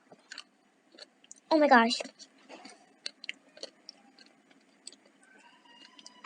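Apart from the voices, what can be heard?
chewing crunchy candy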